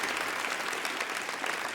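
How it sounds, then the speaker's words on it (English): Steady, dense applause from an awards ceremony audience, many hands clapping continuously at an even volume throughout. "they deserve a round of applause"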